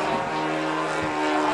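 A radio-controlled model airplane with a diesel engine flies at some distance, giving a steady, even propeller drone at moderate loudness throughout.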